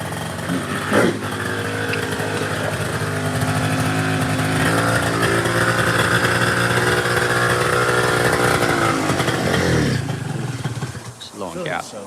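A cobbled-together 90cc Jog motor scooter engine runs steadily with a buzzing, harmonic drone for about ten seconds before cutting off; people talk over it.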